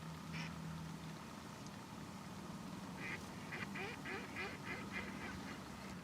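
Mallard ducks quack in a rapid series of nasal calls against steady outdoor wind noise, faint and distant, with a single quack early on before the main run.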